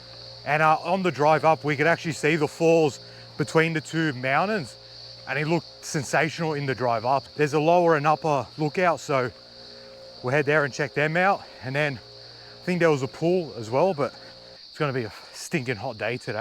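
Insects chirp in the Australian bush near Mount Buffalo on a hot day, a steady high buzzing drone that runs continuously underneath close, constant talking.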